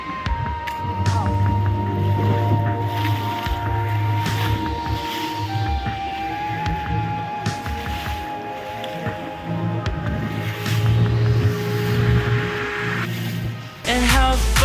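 Motorboat cruising on open sea off the east coast nature reserve at Pangandaran, a steady loud engine drone with hull and wave wash throughout and a harsh splash or bump near the end.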